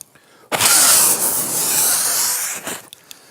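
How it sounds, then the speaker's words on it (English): A hand rip saw is run through a piece of scrap hardwood, a loud, close rasping stroke lasting about two seconds, followed by a shorter scrape at the end. "I'm just basically running it in a piece of scrap hardwood, and a few strokes will remove the burr"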